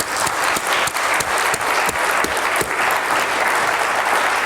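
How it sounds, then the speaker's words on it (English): Sustained audience applause at a South West London NHS annual general meeting, dense steady clapping from a large crowd filling the whole stretch without a break. "So let's give a final round of applause to our public."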